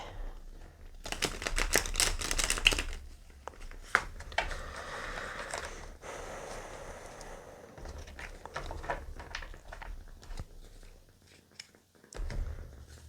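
Tarot cards being shuffled by hand, a run of soft riffling and slapping bursts that repeat steadily for several seconds, close and moderately quiet, with scattered taps and handling noise and no one talking.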